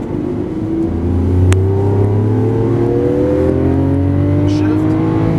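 A 2012 Lamborghini Aventador accelerates hard on a race track, its engine a loud close rising drone that climbs steadily in pitch, with a brief click and an instructor's voice faintly underneath.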